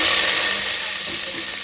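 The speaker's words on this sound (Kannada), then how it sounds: "ಅದು ಚಟಪಟ ಅಂತ ಇದೆ. ಇವಾಗ ಅದಕ್ಕೊಂದು ಸ್ಪೂನಷ್ಟು ಜೀರಿಗೆ ಹಾಕ್ತಾಯಿದ್ದೀನಿ" A spoonful of cumin seeds hits hot oil for tempering a Kayi Palya, producing a loud, close, continuous sizzling hiss that eases slightly as it goes on.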